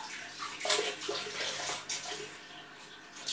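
Tap water running while vegetables are rinsed under it, a close splashing gush that rises and falls unevenly as the produce is moved, with no talk.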